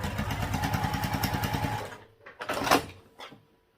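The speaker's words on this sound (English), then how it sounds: "And again, we'll sew down each side." A sewing machine stitches down each side of a crossbody bag strap, running in a steady fast rhythmic whir for about two seconds, then stopping, followed by a few short bursts of handling noise.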